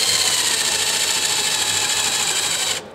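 A cordless drill with a single-flute countersink bit cuts into a wooden board, a loud, steady grinding whir for almost three seconds that then stops abruptly.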